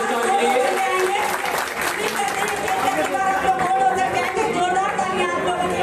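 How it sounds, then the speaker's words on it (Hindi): Steady applause from a crowd at a leadership gathering honouring silver star members, continuous clapping blended with crowd chatter and voices throughout. "जोरदार तालियां सभी सिल्वर स्टार के लिए"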